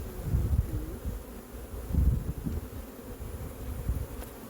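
A low, steady buzzing of many honeybees close by in an open hive during an inspection, swelling in a couple of louder pulses, with no talking.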